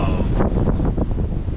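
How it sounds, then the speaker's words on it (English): Strong wind gusts roar over a snowy high-country campsite, a loud, continuous rumbling buffet hitting the microphone with no break throughout. "Fucking wind's changed direction, eh?"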